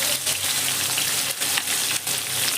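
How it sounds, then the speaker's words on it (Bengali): Sliced onions sizzle and crackle in hot oil in a pan, a dense, steady frying hiss with small bursts of stirring, close and loud with no talk. "এই সময় এখানে আমি দিয়ে দিচ্ছি পেঁয়াজ"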